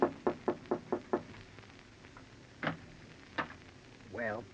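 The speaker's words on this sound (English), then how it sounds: "you go upstairs and knock on the door" Knocking on a door in an old CBS radio drama: six quick raps in a row, then a couple of isolated thuds and a brief tonal sound, fairly faint against a hissy background.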